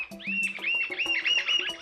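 A plain-winged woodcreeper calls in the Atlantic forest of Serra da Bocaina, giving a short series of rising, whistled notes mixed with other birds and a low croaking background, fairly close and clear.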